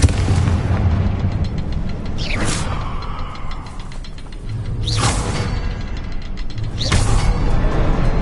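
Fiery Confringo spell blasts in Hogwarts Legacy sound as three booming explosive bursts with sharp crackling attacks, set over a continuous rumbling mechanical game background.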